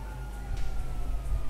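A police siren wails in the video game GTA V during a car chase, a steady tone running beneath a low rumbling engine and road noise, no speech.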